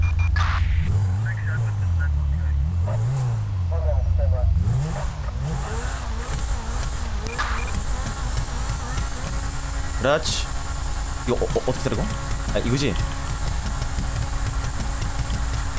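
A Lamborghini Huracan engine revs in GTA V, swelling and falling in pitch as a loud steady drone while people talk over it.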